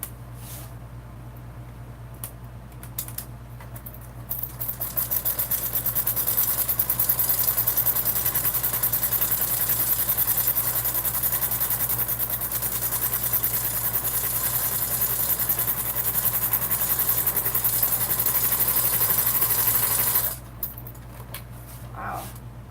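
A sewing machine stitches the final seam of a Swoon Maisie bag, its motor running in a steady, fairly loud whir for about fifteen seconds before stopping abruptly.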